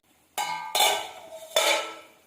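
A metal lid clanks loudly against a pot of boiling tamarind curry, then rattles and rings again as it is lifted and set down, close by and with no voices.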